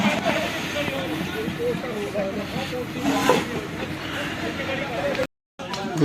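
A fire roars and hisses steadily in large cooking stoves at a community langar kitchen, loud and continuous, while people talk over it. There is a brief dropout near the end.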